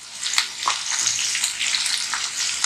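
Ivy gourd frying in a pan makes a loud, continuous hissing sizzle with a few faint clicks, close and steady throughout.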